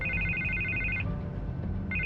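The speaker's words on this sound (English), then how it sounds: "I can't get the phone to stop ringing." A telephone rings in Batman: The Telltale Series video game, an electronic trill lasting about a second, then a pause, then the next ring starting, over a steady low background rumble.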